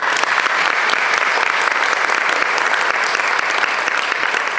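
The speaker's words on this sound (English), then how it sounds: "please give a round of applause and welcome Zoe Myers" An audience at a governor's summit claps steadily, dense applause close and loud throughout without a break.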